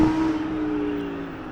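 A stock-exhaust Lamborghini Huracan Performance holds a steady, fairly loud engine drone with a strong tonal hum, sustained for a second and a half with no voices.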